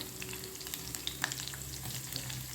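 Cumin seeds, curry leaves and finely chopped garlic sautéing in hot oil in a kadhai, a constant crackling sizzle dotted with sharp little pops.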